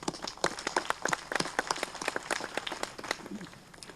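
Scattered clapping from an audience honoring award and medal winners at a graduation ceremony in India, sharp irregular claps of moderate loudness that thin out toward the end.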